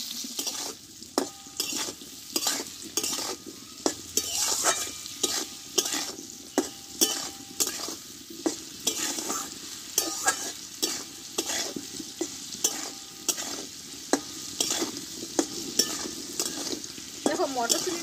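Potatoes and green peas frying in a pan are stirred with a utensil, steady sizzle underneath and repeated scraping, clattering strokes at an irregular rhythm, close and clear with no talking.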